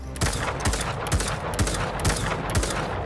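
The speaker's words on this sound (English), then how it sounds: "So let's check out this hand cannon." Exotic hand cannon firing in Destiny 2, about six heavy booming shots in an even, measured rhythm roughly half a second apart, loud and close with no voices.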